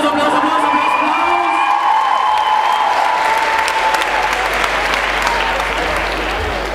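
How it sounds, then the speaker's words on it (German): A convention audience at the Leipzig book fair applauds a cosplay group in loud, continuous clapping with scattered whoops and cheers, and a voice speaks briefly over the crowd. "Applaus!"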